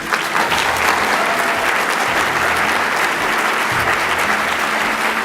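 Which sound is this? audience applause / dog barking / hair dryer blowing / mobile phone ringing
audience applause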